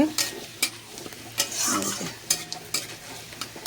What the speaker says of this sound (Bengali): চাল কুমড়োর ঘন্টে পাঁচফোড়ন, তেজপাতা আর তেজপাতা, শুকনো লঙ্কা ফোড়ন দিয়ে